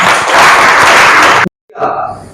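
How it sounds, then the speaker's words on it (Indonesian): A school class of 12C claps together in unison, a loud sustained burst of applause filling the room for about a second and a half before cutting off, followed by a brief voice. "kita akhiri semuanya dengan tepuk tangan bersama"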